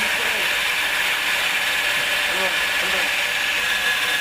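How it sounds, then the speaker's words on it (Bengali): A one-horsepower electric water pump motor runs nearby with a loud, steady mechanical whir and a faint ticking rattle over it. "মোটর চালু হয়ে গেছে, মোটর চলতেছে।"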